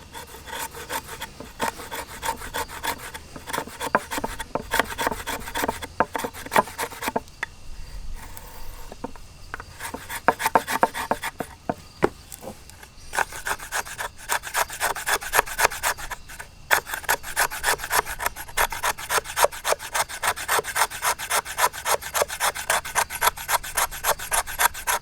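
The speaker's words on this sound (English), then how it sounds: "gives you great control doing these scraping tasks" A Work Tuff Gear bushcraft knife scrapes wood to make tinder, giving repeated close rasping strokes in a steady rhythm with a brief pause partway through.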